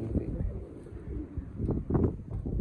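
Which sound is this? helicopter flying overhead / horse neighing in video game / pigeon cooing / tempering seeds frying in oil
pigeon cooing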